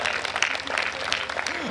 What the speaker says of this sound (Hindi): ताली वाली बजाओ